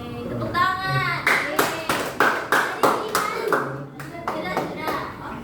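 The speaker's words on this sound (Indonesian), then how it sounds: "Tepuk tangan." Students in a classroom guidance session clapping together, a series of about a dozen crisp, rhythmic claps close by, with voices talking at the start and underneath.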